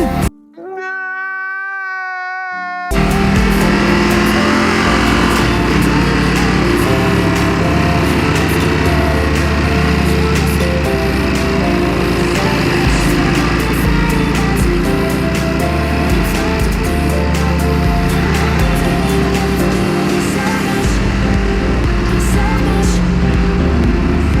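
A Ducati SS 939 motorcycle sits running with a loud, raspy exhaust, its engine droning steadily and close after a brief tonal sound at the very start, with no speech.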